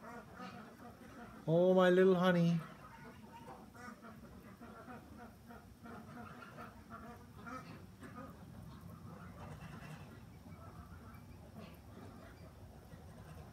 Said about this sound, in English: look at the little, look at the ducks